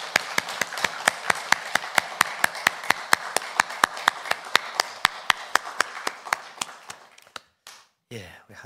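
Church congregation clapping in unison during a Sunday worship service, sharp rhythmic claps in steady even time that thin out and stop, then a brief voice at the end.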